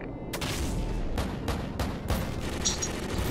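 Heavy gunfire and booming blasts from an AC-130 gunship in a Call of Duty-style shooter match, a dense run of repeated loud bursts and impacts filling the whole stretch with no pauses.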